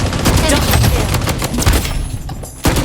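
Rapid, loud bursts of automatic gunfire from a newly acquired gun in the PC shooter game Blood Strike, rattling almost continuously before a brief pause and a final shot.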